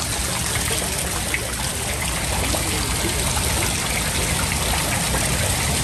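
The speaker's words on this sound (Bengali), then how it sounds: "এই পাশের এই ঝর্ণাগুলো দেখেন কত সুন্দর" Decorative water fountains flow steadily at the Grand Sultan Tea Resort and Golf in Sreemangal, a continuous near splashing and trickling rush of water with no pauses.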